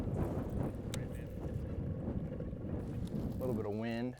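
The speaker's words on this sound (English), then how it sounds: "A little bit of wind, a little bit of chop." Wind and choppy water on a lake during bass fishing, a steady rushing wash of gusts and lapping chop heard close by, with a voice briefly speaking near the end.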